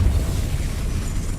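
Depulso repelling spell cast in Hogwarts Legacy, a short broad whooshing blast with a strong low-end boom, loud and sustained for about a second.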